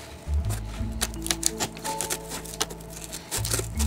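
Scissors snip through a cardboard box for a DIY makeup storage project, giving a run of crisp, close cutting clicks and crunches at an uneven rhythm with bursts of low handling thumps at the start and end.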